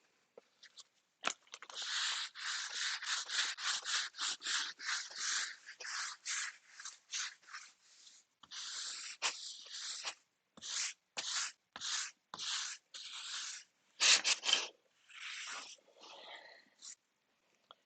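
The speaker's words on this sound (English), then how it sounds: "And this scrapes off any residual wonder under that may be on the mat." Residue is scraped off a Cricut cutting mat in a long run of quick, raspy strokes, close and fairly quiet, coming in rhythmic bursts with brief pauses and no talk.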